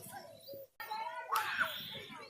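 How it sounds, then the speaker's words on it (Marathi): Birds calling around a village home: a short, bright chirping burst rises midway, faint and close behind people talking. "ह्या टायमाला पक्षी वरड देत."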